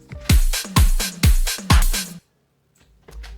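Programmed Ableton drum beat of kick, hi-hat, ride cymbal and toms plays four loud, evenly spaced hits with booming low thumps and bright cymbal wash, then stops abruptly and restarts faintly near the end, with no talking.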